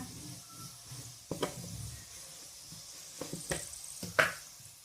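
Chili powder going into hot oil for fried-gram churumuri, a soft sizzle under clatter, with a few sharp stirring clinks and scrapes of a utensil against the pan.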